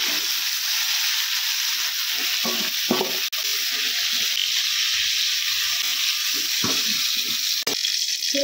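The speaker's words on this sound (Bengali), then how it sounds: "ফুলকপিগুলো ভাজা হয়ে গেছে, এবারে তুলে নেব" Cauliflower frying in oil in a wok makes a loud, steady sizzle, with a few scattered knocks from stirring and a couple of sharp clicks.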